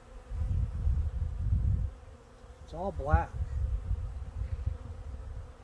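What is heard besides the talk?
European honeybees buzzing at a DIY bucket feeder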